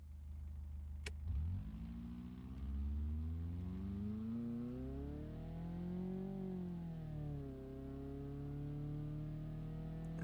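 A car accelerates hard at night in a personal drag run, the engine note climbing steadily through the gears with a brief dip and rise, loud and close from inside the cabin.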